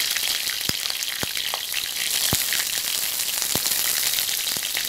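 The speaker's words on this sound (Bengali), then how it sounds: "তেল গরম হয়ে গেছে। এবার এর মধ্যে আমি সাদা জিরে ফোড়ন দিয়ে দিচ্ছি।" Cumin seeds, a bay leaf, cardamom, cloves and cinnamon crackling in hot oil, a loud continuous sizzle with sharp pops scattered throughout, close up and without voices.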